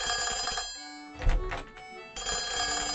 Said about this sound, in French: Un téléphone? Où ça?